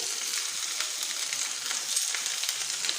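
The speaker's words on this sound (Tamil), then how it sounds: "நல்லா அந்த பச்சை வாசம் போகிற அளவுக்கு முருங்கைக்காவை இப்படி லேசாக வதக்கி விட்டுடலாம்." Sliced drumsticks (moringa pods) sauté lightly in a pan for a Tamil drumstick and jackfruit-seed poriyal, giving a steady, even hiss of sizzling throughout with no talking.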